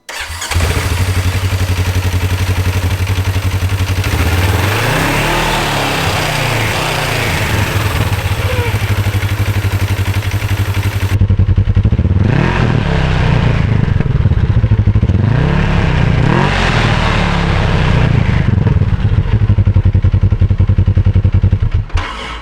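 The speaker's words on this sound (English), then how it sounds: "Let's run this up to speed and see how it looks." A Polaris RZR 1000 XP engine, just refitted with an aftermarket clutch, runs loud and close, revving up in repeated surges that rise and fall over a steady low idle.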